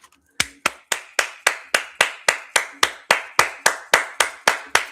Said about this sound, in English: Big claps for that.